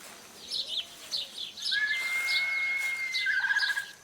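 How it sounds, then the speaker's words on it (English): Colorful forest birds chirp and sing in a steady string of short, bright calls, with a long sustained whistle-like note joining partway through and a brief rapid trill near the end, fairly close and clear. "this place looks beautiful with colorful birds flying around"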